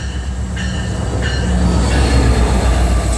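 A train rolls past with a steady, heavy rumble and high-pitched wheel squeals that rise and fade, loud and close.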